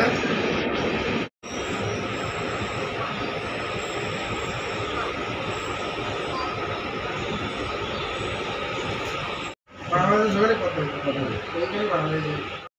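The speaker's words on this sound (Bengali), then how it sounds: "ট্রেন ছেড়ে বেরিয়ে গেল এখন নিউ ফারাক্কা জংশন স্টেশন।" Kulik Express rolls out of New Farakka Junction station, heard from inside a Vistadome coach as a steady loud rumble and rattle of wheels, with two brief dropouts and a voice talking over it.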